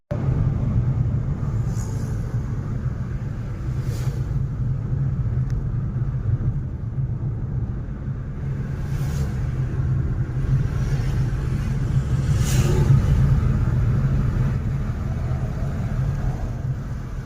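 A car drives along a highway between Pune and Solapur, its engine and road rumble holding at a steady, continuous level with faint passing swells and no talking.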